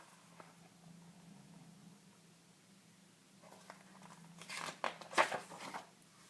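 A parcel delivered by the postman is torn open at home, with rustling and several sharp crinkling, tearing bursts of paper close by toward the end, after a quiet stretch with a low hum.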